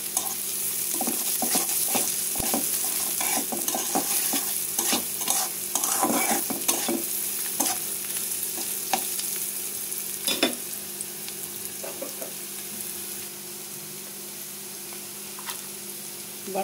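Onion and garlic fry with salt in a pan for a Bangladeshi dried loitta fish bhuna, a steady sizzle running throughout while a spoon stirs and scrapes in repeated close strokes, with no talking.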